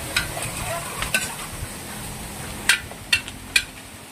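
Rice noodles (bihon) are stirred in a pan over soft sizzling, with a few sharp utensil clinks and scrapes against the metal.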